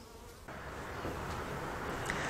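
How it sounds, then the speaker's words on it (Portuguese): A bee swarm buzzing around a cardboard bait box outdoors, a dense continuous drone of many insects close by that grows slightly louder partway through, with no talk. "A abelha entrando aqui, trabalhando, carregando mel, pólen, já está até ferroando"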